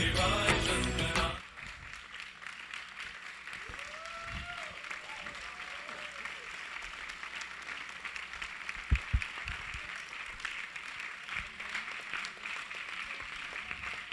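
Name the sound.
audience applause after a stage performance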